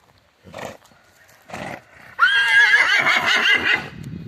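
A Percheron mare gives two short snorts, then breaks into a loud, prolonged whinny that quavers before trailing off into soft low sounds.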